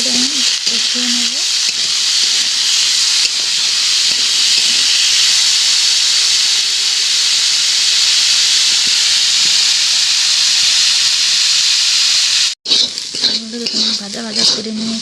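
Potato pieces fry in hot oil with a little turmeric and salt, giving a loud, continuous hiss and sizzle up close with steady crackle. Someone talks over it, and the sizzle cuts out briefly near the end.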